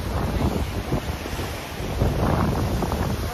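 Strong wind blows hard across the microphone at a high lookout above Mooloolaba Beach, a loud continuous roar with gusty swells that covers the sea below it.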